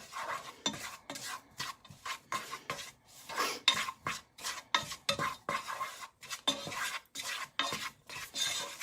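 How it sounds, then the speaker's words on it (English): Onion being stirred with seasonings in a pot for vegan lentil tacos, a rapid run of close scraping, rubbing strokes of a utensil against the pot, rhythmic and dense throughout, no talking. "Now I have to stir until the onion is coated"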